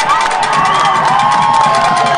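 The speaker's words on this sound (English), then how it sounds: "Bulldog fans getting loud here." A high school football crowd of Bulldog fans cheers and shouts loudly at a Murphy versus Franklin game, a dense roar of voices with whoops sustained throughout.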